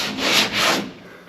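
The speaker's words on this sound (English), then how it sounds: "Sanding again." Two long sanding strokes rasp across a Power Wagon truck door during body work, close and loud, each swelling and fading, with no voices.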